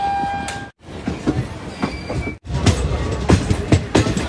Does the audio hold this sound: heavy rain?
no